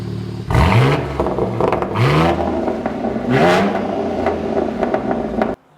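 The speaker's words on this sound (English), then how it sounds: "I'll give it some revs." A BMW G82 M4 with a manual gearbox and a titanium Valvemaster exhaust is revved three times in quick succession, each loud rising blast falling back to a rumbling idle, close to the car with no talking.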